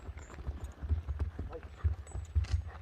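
A horse ambles along with steady clip-clopping hooves, close and fairly loud, its rhythmic beats running under people talking nearby.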